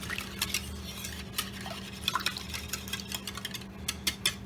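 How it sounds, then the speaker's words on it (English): Eggs beaten with hot sauce in a bowl, a quick series of light clinks and wet taps from a whisk, repeated and irregular over a steady low background hum. "what you're gonna do is you're just gonna whisk it all up"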